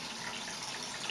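Water runs steadily from a metal tap, a continuous quiet hiss and splash with no other sounds and no speech.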